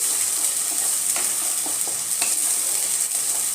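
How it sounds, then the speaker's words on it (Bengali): Chicken masala frying in a pan over medium flame, a steady close sizzle with scattered soft stirring scrapes and pops, no talk. "কিছুক্ষণ এই মশলাটা কষিয়ে নেব।"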